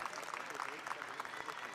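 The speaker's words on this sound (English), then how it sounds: "David Nagy being cheered on by the boisterous crowd here in the Bock Arena in Budapest" Home crowd in the Bock Arena in Budapest cheering and clapping at a men's epee semi-final fencing bout, a lively, even wash of applause and shouts under commentary.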